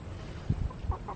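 Backyard chickens cluck softly in a garden coop, a few short low clucks in quick succession, faint and close with no talking.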